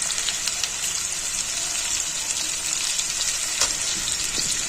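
Taro pieces sizzle steadily in hot oil with a little salt, a dense, even crackle close by with occasional sharper pops and no talking.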